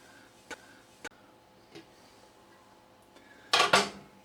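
Metal clatter as a lid is set onto a 12-inch hybrid stainless wok stir-fry pan during unboxing: a few light taps, then a louder, brief rattling clank near the end, close and alone.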